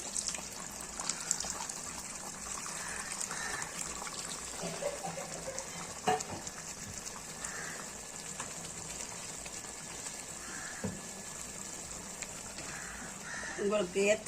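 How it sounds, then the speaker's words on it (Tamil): Tamarind water is poured into a simmering Madurai-style fish curry, giving a steady liquid gush and trickle over a low background hum, moderately close. "இப்போ நம்ம அந்த புளியை ஊற்றிடலாம்"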